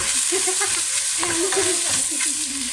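Meatballs fry and get stirred in a hot pan, giving loud continuous sizzling up close with repeated scraping strokes from the stirring utensil.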